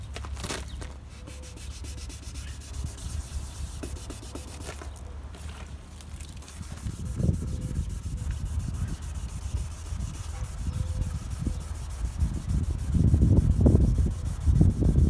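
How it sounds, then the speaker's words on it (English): Someone hand-sands a discoloured plastic car headlight to smooth it, with steady close scratchy rubbing that grows louder and more vigorous in bursts toward the end, and no talking. "I'm just going to give it a little bit more sand over"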